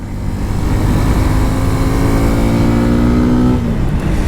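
A 2022 Suzuki Gixxer SF 250 motorcycle revs loud and close as it works through a gear change, its rising engine note dropping off near the end as the shift comes, with no talking.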